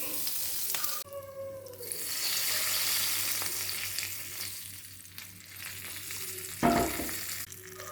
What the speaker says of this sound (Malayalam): ഇനി കടു പൊടിക്കാം കടുകിടാം ജീരകം ചേർക്കാം